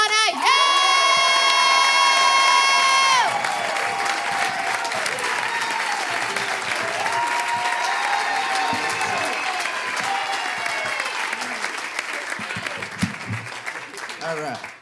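A comedy show crowd bursts into loud applause and cheering as a comedian is introduced, whoops and shouts over steady clapping that carries on throughout.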